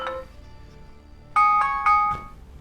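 A ringtone from an Elephone P8 phone's speaker: a few bright, chiming repeated tones, fairly loud and close, preceded by a brief softer note, with no talking.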